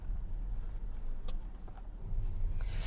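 An Audi A6 supercharged six-cylinder engine hums steadily at low pitch, a continuous near rumble with faint road noise and a few small clicks over it.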